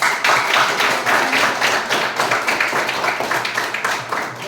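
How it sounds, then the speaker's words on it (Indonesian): A classroom of students claps together, a loud, close burst of rhythmic, roughly unison claps repeating evenly for several seconds. "Untuk itu kita tepukkan."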